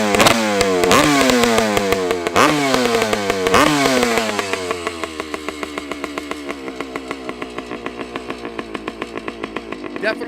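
A 1974 Honda CR250 Elsinore two-stroke motorcycle engine revving with sharp rising blips, then settling into a rapid ringing idle, loud and close.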